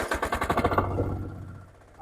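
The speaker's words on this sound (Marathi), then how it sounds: "तुम्ही बघू शकता ट्रॅक्टर चालू करायला सुद्धा किती सोपं आहे" A tractor engine cranking and catching, a rapid close pulsing rattle of firing strokes that runs for about a second before fading off.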